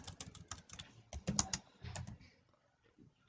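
Quick bursts of typing on a computer keyboard, key clicks coming in uneven clusters with a louder flurry midway and a quiet gap before a final tap.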